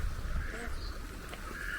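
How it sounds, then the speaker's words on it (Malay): Ducks quack and honk faintly at an outdoor picnic spot in the Tyrol village of Obertilliach, Austria, a few brief calls over steady ambient noise and wind. "Itik."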